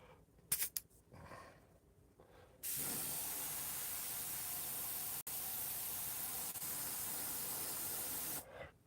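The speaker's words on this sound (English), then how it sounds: "Like the way that's spraying, so that's the white." An airbrush sprays white paint for vintage sign lettering, giving a steady close hiss that starts after a few quiet taps, holds for about six seconds with one brief break, then stops.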